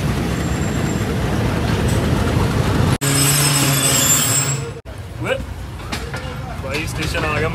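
Rumbling train noise at a busy railway station, with broadband clatter and hiss cut by two abrupt breaks, while voices talk over the steady din.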